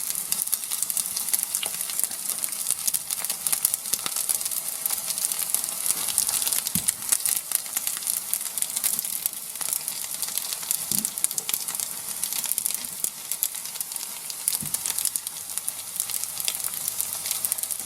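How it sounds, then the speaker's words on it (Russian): Buckwheat patties fry in a pan, a steady, close sizzle with a bright crackling hiss that runs unbroken throughout, broken only by a few faint low knocks. "Теперь с этой стороны обжариваем также 5 минут."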